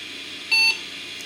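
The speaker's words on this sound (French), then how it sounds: "Il va même biper, si tout va bien." A restored 2001 PC, repaired after capacitor failure, gives a single short, clear electronic beep at startup over a faint background hum.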